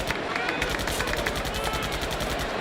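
Rapid bursts of cannon fire at an outdoor team event crackle in a fast, regular stream of sharp reports, loud and steady throughout with no pause.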